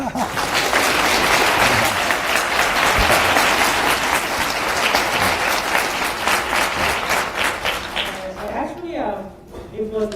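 An audience gives warm, dense applause for a Nobel Prize winner, a steady wash of many hands clapping that carries on for several seconds before thinning out as a voice begins speaking.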